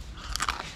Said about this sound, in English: This is the real thing. Crunchy and real nice.